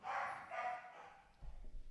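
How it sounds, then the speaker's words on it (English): Dogs bark in a quick burst at some distance, then give way to muffled low rumbling and shuffling noise. "Had to shut up them dogs."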